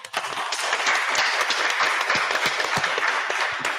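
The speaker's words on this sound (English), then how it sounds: "The candidates, give them a round of applause." An audience at a local council election candidates' event applauds, a loud, close, dense burst of many hands clapping with sharp individual claps standing out throughout.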